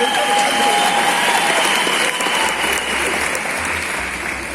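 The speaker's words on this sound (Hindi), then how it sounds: "बजा लो ताली एक बार" An audience at a business seminar in a hall breaks into sustained, dense applause, a loud, even wash of clapping that fades slightly toward the end.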